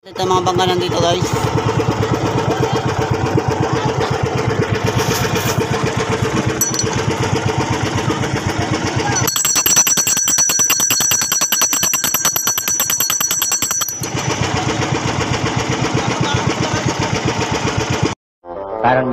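A small boat engine runs loudly and continuously up close, a buzzy, rapidly pulsing drone that carries on for nearly the whole stretch, with people talking over it and a brief cut-out near the end.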